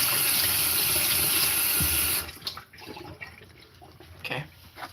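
Tap water runs loudly over tiny baby potatoes in a sink for about two seconds, then stops, leaving drips, splashes and handling of the wet potatoes.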